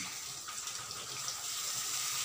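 Water pours into a pan for cheese Maggi noodles, a soft, steady splashing hiss with no break and no voices.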